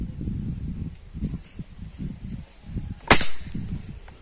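A single sharp rifle shot cracks out midway through while a Rossi scope is being adjusted on target, loud and abrupt over a low rumbling outdoor background, with no talk.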